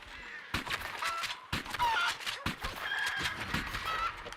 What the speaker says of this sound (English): Oh, I have killed a lot of chickens.